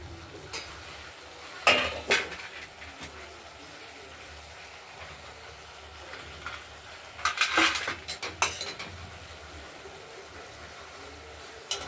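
A spatula scrapes and clanks around bottle gourd cooking in an open wok, producing a few scattered, close metallic stirring strokes in two brief bursts separated by quieter stretches.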